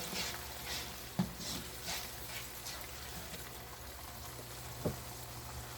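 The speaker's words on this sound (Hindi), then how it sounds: "अदरक लहसुन की पेस्ट, ये भी मैं बीच में ऐड कर दूंगी। तो साथ इसके भून लेंगे।" Ginger garlic paste frying in a pan over low heat, a steady soft sizzle with a couple of brief clinks from a spoon against the pan.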